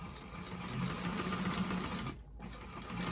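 A sewing machine stitches a bag lining seam in a fast, even whir that stops briefly near the end and then resumes, close and steady.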